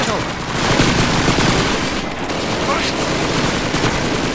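Rapid submachine gun bursts from the World War II shooter Call of Duty 2, loud and sustained through the clip, with battle noise and voices mixed in.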